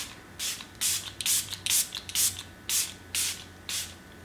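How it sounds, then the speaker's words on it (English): Catrice Prime and Fine setting spray is pumped in about eight sharp, close hissing bursts in an uneven rhythm, each a short airy spritz with quiet gaps between. "A little shake to my Catrice Prime and Fine."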